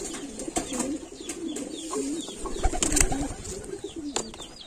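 A red racing pigeon cooing in a loft, soft low rolling coos repeated under scattered wing flaps and clicks, close and moderately quiet.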